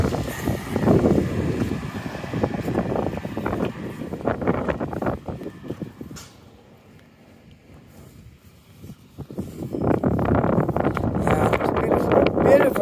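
Wind buffeting a microphone outdoors on a city street in the South End, heavy rumbling gusts that ease off mid-clip, then return strongly.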